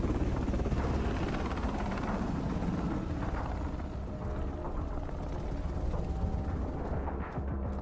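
A helicopter in Call of Duty Modern Warfare team deathmatch drones with a continuous heavy rotor rumble and whine, loud and steady throughout with no talking.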